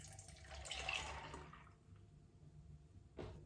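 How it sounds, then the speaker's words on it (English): Mint ice cream base poured into a Ninja Creami pint, a short liquid splashing and trickling burst that fades out, followed by a brief soft knock near the end. "I'm just going to pour it into my pint"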